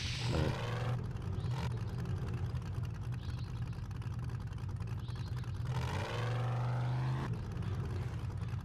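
A 4x4 vehicle engine in 7 Days to Die hums steadily, then revs up in rising surges near the start and again toward the end, a loud mechanical whine over a low drone.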